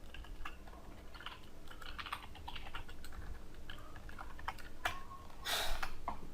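JavaScript code being typed on a computer keyboard, with quick irregular clusters of soft key clicks and a louder clack near the end, close and fairly faint.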